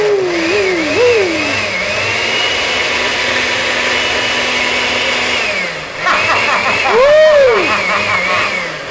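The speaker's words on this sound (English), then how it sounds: "Now, we're gonna blend this thing up." A countertop blender whirs steadily as it blends a pink summer drink, a loud continuous motor drone that briefly dips near the end, with voices talking over it at the start and toward the finish.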